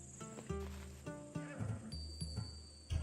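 A horse neighs several times in short bursts in the video game Assassin's Creed Odyssey, with a steady tone-like game sound running behind it.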